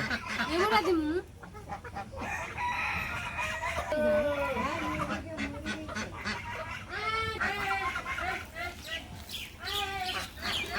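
Village chickens cluck and squawk loudly nearby, with goose-like honks mixed in. Their calls rise and fall over several seconds while a person talks among them.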